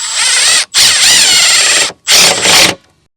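A power ratchet snugs down bolts during a radiator replacement on a 2007–2010 Chrysler Sebring. It gives three loud, close whirring bursts separated by short pauses.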